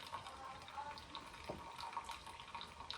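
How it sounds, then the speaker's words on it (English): Water splashes and trickles steadily, like liquid poured from a pot into a sink, with a brief louder gush midway. "I'm gonna go ahead and just strain this water out of it"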